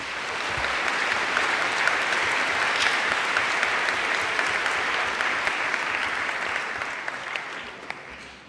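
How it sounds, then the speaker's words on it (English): A conference hall audience at a Model UN opening ceremony breaks into steady, dense applause that sustains evenly for several seconds before tapering slightly at the end. "Clapping is now in order."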